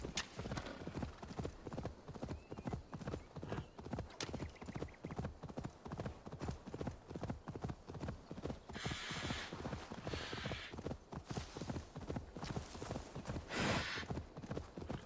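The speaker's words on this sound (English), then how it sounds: "Oh, a horse is right there. Oh! Two horses!" Horse hooves clip-clop in Assassin's Creed Valhalla: a brisk, steady galloping rhythm of hoof strikes, close and continuous throughout, with occasional creaks and a faint whinny mixed in.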